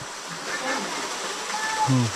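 A small waterfall near Mount Banahaw trickles and splashes with a steady broadband rush, close and continuous, ending with a brief low thump.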